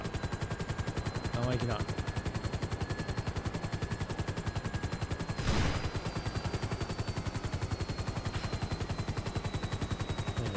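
Rapid, sustained automatic gunfire from enemies shooting in Grand Theft Auto V, a steady loud rattle throughout with a brief heavier burst midway, and a voice speaking briefly over it.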